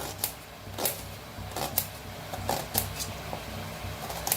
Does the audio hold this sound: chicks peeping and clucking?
no